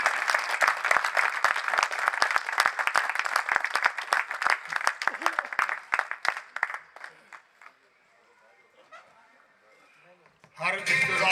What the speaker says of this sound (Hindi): भरपूर क्लैपिंग के साथ आप सबकी भरपूर तालियों में